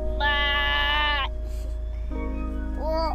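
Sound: child imitating grumbly robot voice

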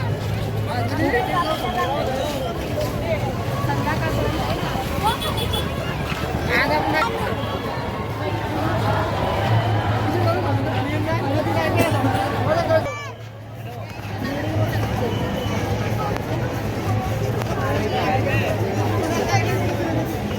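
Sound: large dense crowd chatter at a gathering

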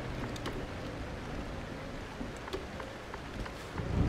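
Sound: rain in the video game Euro Truck Simulator 2

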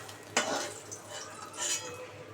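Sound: lifting fried eggplants out of the pan

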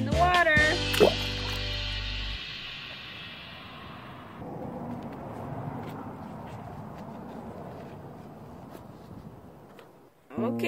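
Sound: toy dinosaur thrown into water

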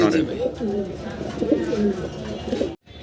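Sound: pair of giant homer pigeons cooing

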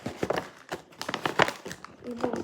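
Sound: plastic gift bag crinkling

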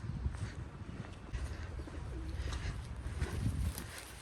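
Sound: pigeons cooing

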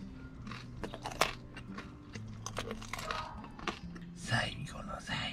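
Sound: chewing and biting the last bite of food

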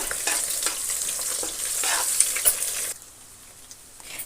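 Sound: frying turmeric in oil

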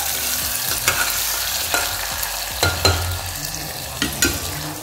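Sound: onions frying and being stirred in a pan

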